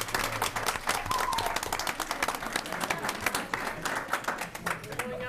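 Audience applauding students at a school board meeting, a steady wash of indoor clapping that carries through the whole stretch with some voices mixed in.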